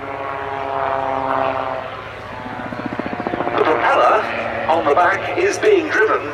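A Rotorsport Calidus gyroplane with a 115 horsepower Rotax 914 engine flies at the Duxford Summer Airshow, its steady propeller drone rising and pulsing louder as it passes, with a commentator speaking over it.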